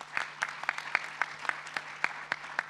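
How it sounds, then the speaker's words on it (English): Applause for a panel at an AI forum, heard as a run of about ten evenly spaced, sharp claps in a steady rhythm over a faint low hum, with no voices. "Please, big applause."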